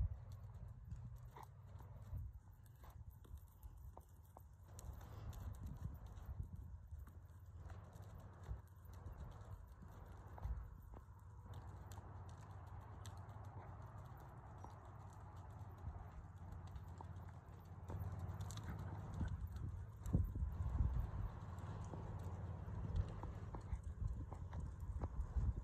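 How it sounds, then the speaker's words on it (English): Horses trot in a show class with steady clip-clopping hooves on the ground, a continuous rhythmic patter, fairly faint and at a distance. "Trot, trot your horses, please, trot."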